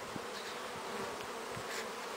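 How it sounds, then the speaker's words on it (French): Honey bees buzzing steadily at the flight board of a hive where a colony has lived for five years, with foragers returning with pollen; a close, dense hum with a few individual bees passing by, and no talk. "On voit arriver des abeilles avec du pollen aussi."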